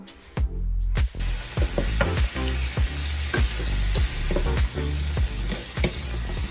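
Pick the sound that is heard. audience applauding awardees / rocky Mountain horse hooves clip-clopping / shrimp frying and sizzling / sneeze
shrimp frying and sizzling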